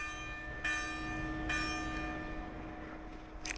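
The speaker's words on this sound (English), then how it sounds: "Church bells." Church bells ring out at 9 o'clock from a distance in Santa Eulalia, Ibiza, two strong strikes a second apart with long shimmering resonance lingering between them.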